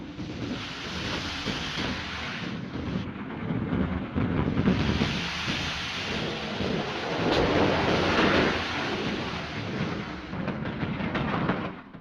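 A steam locomotive pushing a snow plow rams into a deep snowdrift, a dense continuous roar of churning snow, steam and engine noise swelling and easing over several seconds with a sharp hiss near the middle.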